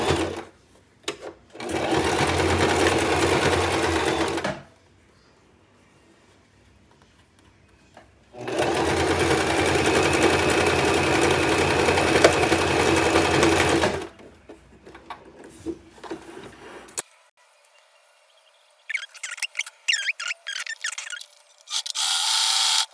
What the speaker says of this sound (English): And then you just sew that shut.